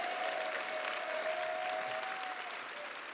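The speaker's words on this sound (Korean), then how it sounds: "대한민국과 미국의 관계로 인하여 주님께 감사의 박수를 올려드리겠습니다" Sustained applause from a church conference audience giving thanks, a steady wash of clapping at moderate distance with a faint tonal hum running underneath.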